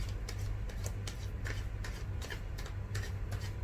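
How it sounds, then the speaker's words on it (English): A deck of tarot cards is shuffled by hand, giving quick, repeated papery riffles and taps in an even rhythm, close and fairly quiet over a low background hum. "I'm gonna do the shuffling on camera"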